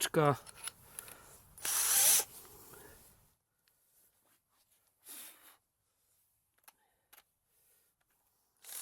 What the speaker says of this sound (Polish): No i taka wiertareczka mała, 28 Nm i spokojnie sobie radzi z takimi wkrętami.